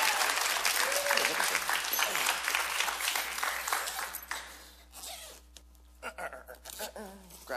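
An audience applauds for a volunteer at a live show, a dense, loud burst of clapping that fades after about four seconds into scattered claps and a few voices.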